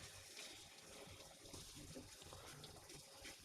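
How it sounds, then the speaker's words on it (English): Water from a kitchen faucet runs steadily over vegetables being rinsed, a continuous broadband splashing hiss at low level with no clear speech. "Let me rinse that off"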